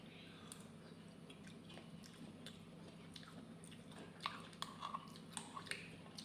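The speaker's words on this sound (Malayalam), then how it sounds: "നമുക്കത് കഴിച്ച് നോക്കാം കേട്ടോ." Someone eating a fruit dessert sweetened with honey, with faint, close, wet chewing and soft squishy bites, a few sharper bites near the end, heard alone against a quiet background.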